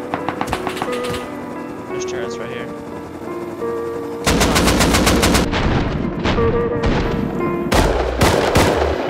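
Rapid gunfire in the survival video game Rust, bursts of automatic shots and heavier rattling volleys that intensify midway, loud and close, with players talking over the shooting.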